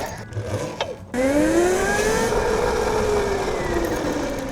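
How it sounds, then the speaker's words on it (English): An ETM electric dirt bike with a high-torque motor accelerates, its rising electric whine sweeping upward loud and close and then slowly easing as the rear brake is squeezed, after a short quieter stretch at the start. "So all I'm doing right now is accelerating and then squeezing the rear brake to try and bed it in."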